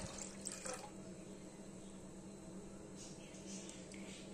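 A steady, soft stream of water pouring into milk in a cooking vessel, gentle and continuous with a faint splashing texture.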